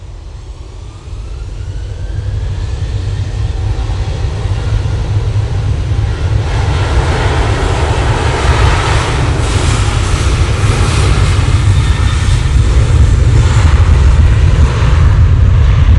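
Virgin Atlantic Airbus A330-300 landing from Atlanta, a loud, deep, continuous jet engine rumble that swells gradually and holds strong throughout with no voices.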